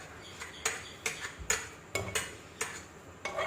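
Ground soya mixture for kola urundai is sautéed in a kadai over full flame, with a spoon scraping and clinking against the metal in irregular taps. The cooking sounds are quiet and close, with no talking.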